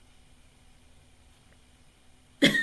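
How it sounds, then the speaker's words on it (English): A single short, sharp cough bursts out at the very end after near silence. "I don't know why I keep coughing."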